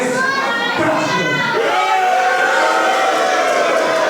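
A wrestling crowd at a UKPW Championship match jeers wrestler Louis Basham, a loud continuous wash of shouting and booing voices, with a higher-pitched yelling swell near the start.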